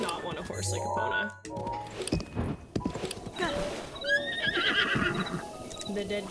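Epona, the horse in a Zelda game exploring Lanayru Tower and Lake Hylia, neighs and whinnies with hoof clip-clop mixed in, while a player talks excitedly over the game audio.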